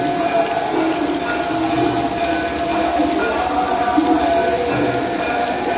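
Heavy rain pours steadily over Ramgarh Shekhawati, a dense, even hiss of water striking surfaces that holds without a break from start to finish.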